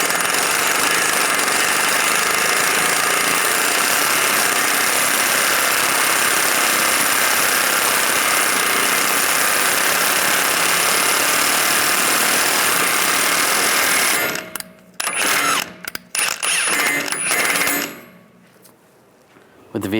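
An axle nut being tightened on a 1998–2010 Volkswagen Beetle, a loud continuous rattling power-tool drone that cuts off into a few short bursts and scrapes near the end.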